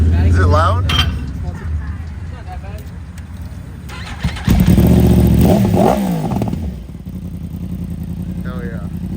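A Yamaha R1M sportbike engine runs loud and close, its pitch climbing and falling through a hard rev in the middle before settling back to a steady idle.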